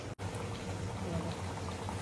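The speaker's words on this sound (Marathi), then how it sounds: "तर चला आता आपण पाणी ऍड करूया मस्त." Hot water is poured into simmering mutton paya gravy in a cooking pot, a steady close bubbling, pouring rush that fills the moment after a brief break.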